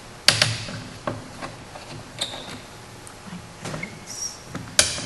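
A screw is undone from the bottom piece of a metal picture frame, giving faint scattered metallic clicks and ticks at close range with quiet gaps between them.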